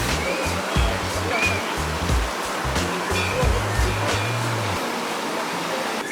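A dangerous waterfall roars in a constant broadband rush, loud and close, with faint low thumping in the background and no clear speech.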